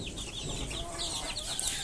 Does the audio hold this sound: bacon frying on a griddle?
no